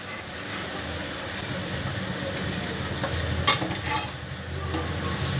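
Sweet potato jalebi and pantua frying in hot oil, a soft continuous bubbling sizzle with one sharp clink partway through.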